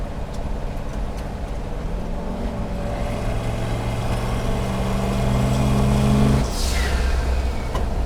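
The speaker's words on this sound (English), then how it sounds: "This thing makes great blow-off valve noise" A turbocharged car drives by with its engine note climbing steadily. It ends in a sharp, airy hiss as the blow-off valve vents, then the engine drone carries on.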